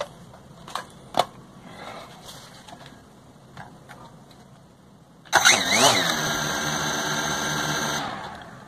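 A few clicks and handling noises, then an SG908 Max drone's small motor whirs up abruptly into a loud, steady high-pitched drone spinning for several seconds before easing off.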